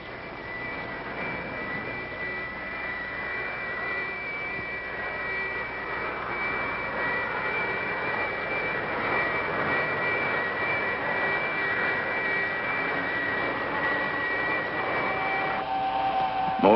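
Jet aircraft engine noise in a 1964 science-fiction film, a steady loud roar with whining tones that holds and slowly builds in intensity as thrust increases, with no voices over it.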